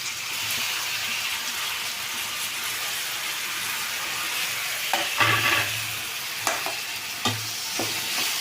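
Ridge gourd and tomato fry in a pan with a steady, close sizzle, broken by a few brief louder scrapes of a spoon stirring near the end.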